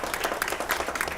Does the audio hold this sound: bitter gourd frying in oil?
no